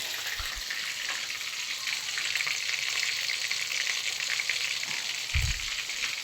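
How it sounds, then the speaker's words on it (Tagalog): Steady crackling sizzle of fish frying in hot oil, continuous throughout, with a couple of soft low knocks from the pan. "Prito po ako ng isda, guys."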